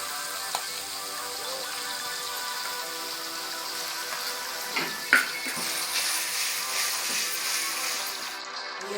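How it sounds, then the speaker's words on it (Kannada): Raw mango pieces frying in oil in a pan for mango rice, a steady bright sizzle and crackle running throughout at close range, with a faint clink partway through. "ಒಂದು 2 ನಿಮಿಷ ಎಣ್ಣೆಯಲ್ಲಿ ಫ್ರೈ ಆಗೋದು ಸಾಕು."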